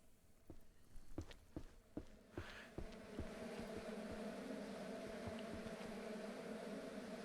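Bees buzz steadily on a ranch in the game Ranch Simulator, a continuous low drone that starts after a run of soft, distinct footsteps.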